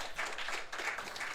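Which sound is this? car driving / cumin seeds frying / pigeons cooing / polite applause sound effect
polite applause sound effect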